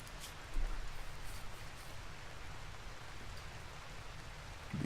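Continuous rainfall in Rimworld, a dense hiss of drops with faint rustling, steady and moderately quiet, no voices over it.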